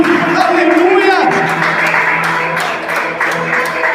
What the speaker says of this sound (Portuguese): Palmas para Jesus, irmãos. Bem forte para Ele.